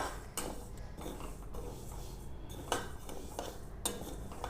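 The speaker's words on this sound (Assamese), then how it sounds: "মগু দাইলখিনি মই শুকানে অলপ ভাজি ল'ম" Moong dal dry roasting in a wok rattles and scrapes as a spatula stirs it against the metal. Clinks recur in a steady background hiss, close and moderately loud, with no talking.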